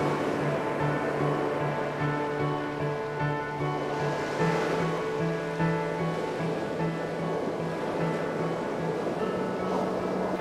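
Steady ocean surf rolling onto a sandy beach where baby sea turtles crawl toward the sea, a loud continuous wash of breaking waves with a faint steady hum underneath and no voices.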